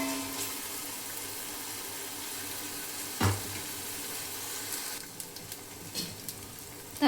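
Ginger garlic paste for chicken biryani frying in a pan, a steady close sizzle with occasional knocks and scrapes of stirring.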